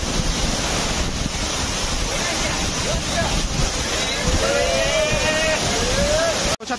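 Waterfall near Kanhe Khandi Road outside Pune, heard as a continuous broadband rush of falling water with wind buffeting the microphone and a few brief high whistling tones.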